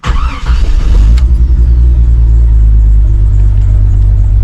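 A 1996 Jeep Cherokee XJ engine cranks briefly, then catches and settles into a loud, steady low rumbling idle with a slight misfire, close by.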